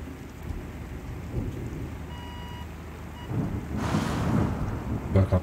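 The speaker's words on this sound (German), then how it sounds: "War gerade Blitz eingeschlagen." Steady rain patters in a thunderstorm in the game Woobly Life, and near the end a lightning strike brings a sudden loud crack and rumble that swells over the downpour.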